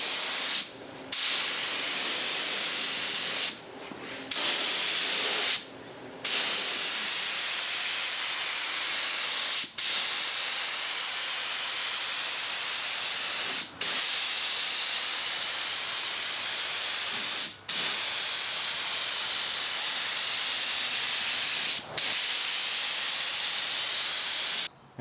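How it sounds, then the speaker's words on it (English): Spray gun laying a sealer coat on an antique buffet: long continuous hissing bursts, loud and close, broken by a few short gaps and quick trigger releases. "Let's shoot a coat of sealer on this."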